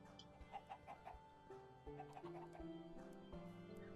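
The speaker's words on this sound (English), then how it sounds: "There are a lot of chickens over here." Chickens in the Minecraft video game give soft, repeated clucks, and a few tonal game sounds play alongside, all quiet with no talking.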